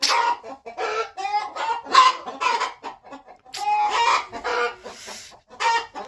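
An Aseel hen on a farm clucks in a series of short, close, rasping bursts, with irregular rhythm and brief pauses, loud and alone without talk.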